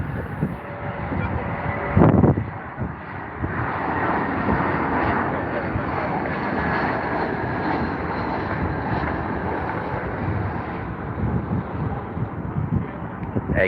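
A Eurowings airliner landing at London Heathrow on runway 09 left, a broad sustained jet roar with a sharp thump early on, while a commentator talks over the rumble.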